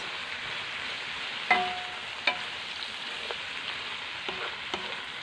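Japanese spinach and bacon being mixed in melted butter in a pan, a steady soft sizzle with a few sharp utensil clicks and scrapes standing out.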